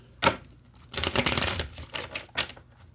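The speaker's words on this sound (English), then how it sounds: "So let me just take a couple of more cards so I can close out." Tarot cards are pulled and shuffled from a deck in a few quick papery bursts of riffling and slapping, close and fairly loud, with brief pauses between.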